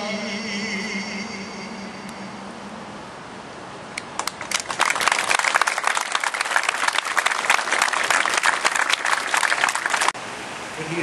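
An audience at a 2011 September 11 tribute bursts into applause after a quieter opening, the dense clapping swelling suddenly and holding steady for several seconds before cutting off near the end.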